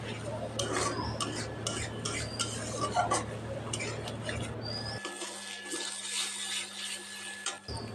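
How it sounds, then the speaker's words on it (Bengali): Onion, ginger, garlic and chili paste with turmeric and salt stir-fried in a kadai over low to medium heat; close spoon scrapes and clinks, steady at first, then thinner and quieter partway through. "পেঁয়াজ, আদা, রসুন, লঙ্কা বাটা মশলাটা অ্যাড করে হাফ টিস্পুন হলুদ গুঁড়ো আর আন্দাজ মতো নুন অ্যাড করে লো টু মিডিয়াম হিটে মশলা কষিয়ে নেব।"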